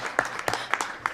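A small conference audience claps sparsely, with a handful of separate, uneven hand claps close by over a brief moment.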